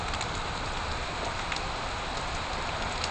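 Steady, dense rain falls on a wet day, a constant broadband hiss of drops striking surfaces, close and unbroken throughout with no voices.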